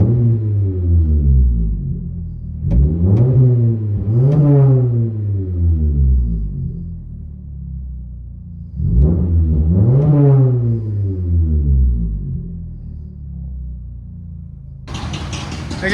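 From inside a Toyota Camry SE 2.5L with a Magnaflow Magnapack and muffler delete, a deep booming exhaust drone rises through two distinct revs and settles between them, ending in a brief burst of noise.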